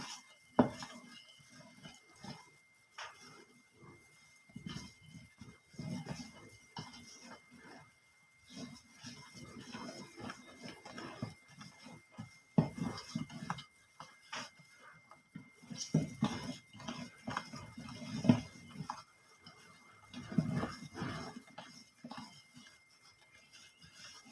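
Chiffon cake batter folded in a bowl, soft repeated scraping and occasional light clinks of a spatula against the bowl in an irregular, gentle rhythm, close and quiet, no talk.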